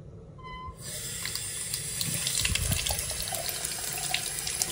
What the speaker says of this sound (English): So there's hot water